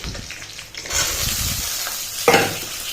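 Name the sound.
onion and cumin tempering sizzling in hot oil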